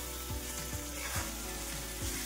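Mashed roasted eggplant bharit with salt and coriander stirred and sautéed in a pan over a full gas flame, giving a steady close sizzle with soft scraping stir strokes.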